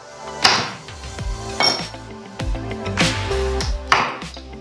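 Knife chops through a large hard block of cocoa butter on a board for homemade sugar-free milk chocolate, giving about five heavy, sharp cracking strikes at uneven intervals, close and loud.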